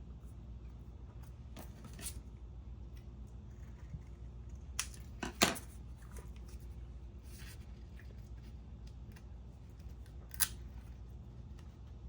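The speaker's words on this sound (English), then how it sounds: "I'll cut 2 of them." Scissors cut in a few separate, brief snips at close range, sharp against a quiet room hum, with a cluster of cuts near the middle and one more near the end.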